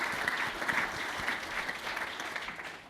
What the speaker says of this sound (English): Please applaud him for being here.